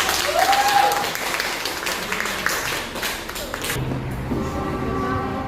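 A school class applauds after a group presentation, with fairly loud, continuous clapping for several seconds that tapers off near the end, a brief tonal squeak and faint room hum underneath.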